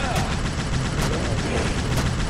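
Rapid automatic gunfire in a video game with zombies, a continuous loud rattling stream of shots with steady pulsing bursts and no pause.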